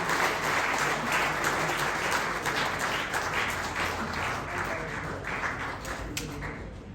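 A church congregation claps together in steady, fairly loud applause that fills the room and tapers a little near the end.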